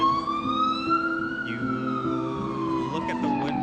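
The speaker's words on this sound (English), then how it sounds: "police sirens blaring through the neighborhood" Police sirens wail loudly and continuously in a video game, the rising and falling tones sweeping over a dense background of engine and street noise.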